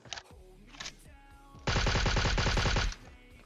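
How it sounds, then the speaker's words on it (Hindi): Gunfire in the battle royale game PUBG Mobile: two short early shots, then a loud sustained automatic burst of rapid rhythmic rounds lasting over a second, close and dominant, with no talking. "यहाँ स्कूल पे बैठे बंदों को भी ये लोग दूर से गोलियां पेल रहे हैं"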